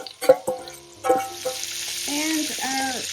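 Red onion and minced red Fresno pepper stirred in a pot for clam chowder give a few sharp close scrapes and knocks of the spoon over a soft, low sizzle, with no voices.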